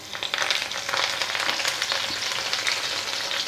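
Broiler chicken pieces fry in a pan with coriander, giving a loud, continuous crackling sizzle with bright spitting bursts throughout and no voices.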